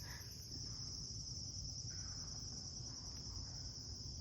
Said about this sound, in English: do you hear the crickets? They sound so cool.